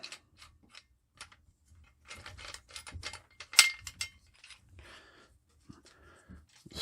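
A folding shovel is swung open and its locking collar tightened, giving a series of faint mechanical clicks, ratcheting snaps and creaks in short bursts, with no talking.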